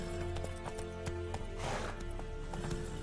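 Horse hooves clip-clopping at a gallop in a video game, a steady run of hoofbeats with a whinny under game music and ambience.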